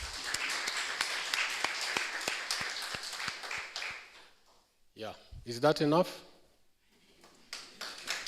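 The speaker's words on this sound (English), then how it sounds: "Let's give a hand of applause to them." Audience applause for panelists at a university research dissemination symposium, a crowd clapping steadily for about four seconds before dying away, followed by brief talk from a nearby voice.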